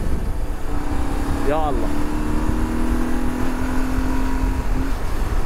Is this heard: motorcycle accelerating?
yes